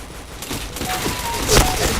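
Bursts of gunfire in the shooter video game Point Blank, a rapid fusillade of shots with a louder crack near the end, loud and close.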